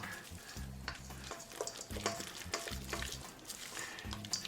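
Hickory-smoked, butter-injected chicken salad, roughly chopped and mixed with Duke's mayonnaise, stirred up close by hand with repeated wet scraping strokes in uneven bursts and brief pauses.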